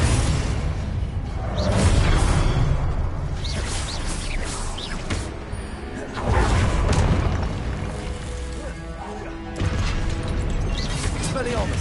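Explosive Confringo spell blasts from the Hogwarts Legacy video game boom and whoosh in repeated loud bursts over a dense, continuous layer of game effects.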